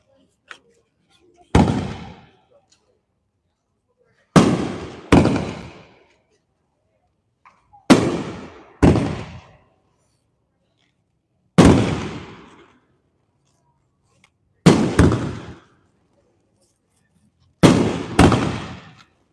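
A Pyro Planet 'Circus' 9-shot 3-inch fireworks cake fires at a night demo in Indiana. About ten sharp booming breaks come singly and in quick pairs, each ringing out with a fading echo across open ground, with silence between.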